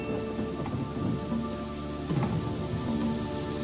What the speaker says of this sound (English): Shifting weather patterns brought torrential rain to the area